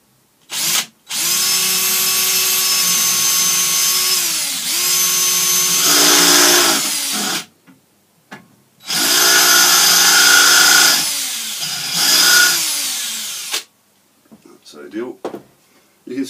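A power drill whines loudly in two long bursts, its pitch dipping under load as it bores into wood for a walking stick, with short pauses and clicks between.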